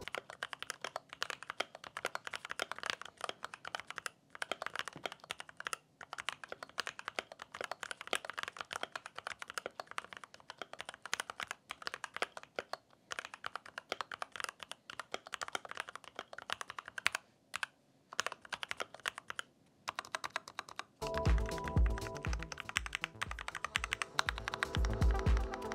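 Typing on an RK61 Plus mechanical keyboard with lubricated switches and a modified case, a long run of soft, muted keystrokes in a steady flurry, close up and alone.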